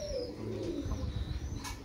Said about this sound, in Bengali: কামাগার কবুতর